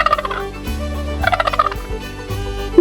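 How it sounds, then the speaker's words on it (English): A farm turkey gobbles loudly and close, with rapid rattling bursts repeating over a steady backing of music. "The turkey gobbles loudly."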